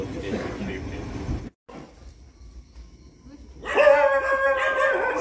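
Dogs bark and yelp amid a scuffle, with a pause partway through before high whining and growling noises return loudly.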